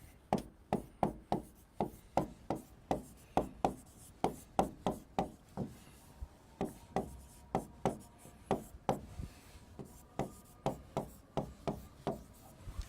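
Chalk taps and scrapes across a classroom board during a lecture: a steady run of sharp, rhythmic strokes, close and clear, with brief pauses between groups of marks.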